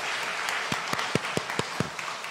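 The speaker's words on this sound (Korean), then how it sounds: "우리 박수로 환영하겠습니다" A church congregation claps to welcome newcomers at a Sunday service: a short burst of scattered hand claps over a steady crowd murmur, moderately loud and roomy.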